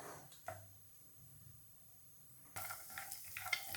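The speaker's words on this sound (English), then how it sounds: "roast the dry fruit, almond, kismis, pista, and cashew nut" Almonds, raisins, pistachios and cashews are roasted in a pan for gujiya with faint sizzling and stirring, which grows louder and busier partway through.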